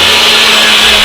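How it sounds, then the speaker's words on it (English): A kitchen blender purées sambar for masala dosa, making a loud, steady motor whine with a high, hissing edge that runs without a break from start to finish. "Deepa, there's a blender right there. Let's just give half of this a nice blend"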